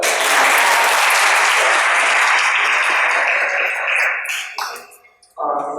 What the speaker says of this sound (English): One special round of applause for her.